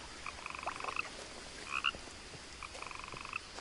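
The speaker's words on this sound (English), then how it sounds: "Where is this goddamn frog?" Frog croaking in the What Remains of Edith Finch video game, three bursts of rapid rattling croaks spaced through the stretch, fairly close and clear over a quiet outdoor ambience.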